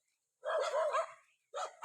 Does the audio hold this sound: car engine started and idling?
no